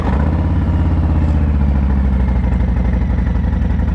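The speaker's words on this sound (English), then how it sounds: "let's get that cold start going." A 2020 Harley-Davidson Low Rider S with Reinhardt exhaust idles after a cold start, a loud, close, lumpy V-twin burble with a steady uneven pulse throughout.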